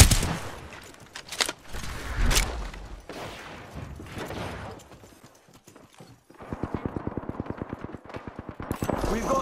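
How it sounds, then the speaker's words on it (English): Gunfire from the Apex Legends video game: bursts of loud shots early on, then a long run of rapid, evenly spaced automatic fire near the end, with game voice callouts in between. "Opening fire."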